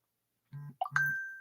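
A phone notification sounds: a short two-part electronic ding whose bright final tone rings on and slowly fades, clear and close in an otherwise quiet room.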